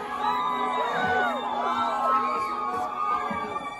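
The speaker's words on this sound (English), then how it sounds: "you guys scream more and more and more" A live concert crowd at a show in Houston screams, whoops and cheers continuously, with overlapping shouted voices forming a loud, close, sustained roar.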